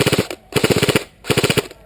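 Airsoft guns fire in rapid bursts during a castle assault skirmish, with three quick volleys of sharp, close, loud pops separated by short pauses.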